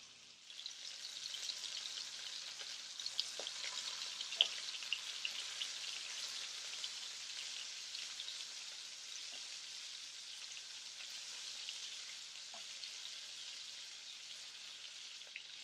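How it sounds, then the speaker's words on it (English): Pork chops frying in garlic butter in a pan on a Cuisinart burner turned up to 5, giving a steady, close, moderately quiet sizzle with scattered crackles and pops that runs without pause and with no talk. "We added a little bit more butter, and you can hear the sizzle."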